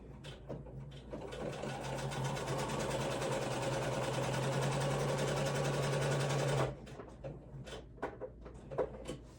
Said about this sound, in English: You'll hear my sewing machine.